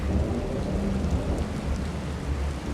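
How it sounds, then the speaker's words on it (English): Steady rain pours down outside during a thunderstorm in Dromund Kaas, a broad continuous wash with low rumbling thunder rolling underneath, with no voices. "A nice thunderstorm going on outside tonight."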